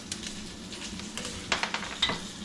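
Onions caramelize in a pan for butternut squash soup, giving a soft, steady sizzle broken by several crackling bursts toward the end, close and without talk.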